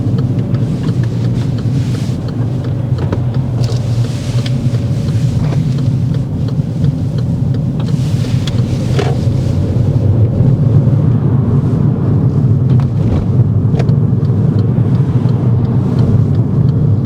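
A manual transmission car pulls away in second gear for a turn once the clutch pedal is fully released, giving a steady low engine and road rumble with wind noise throughout.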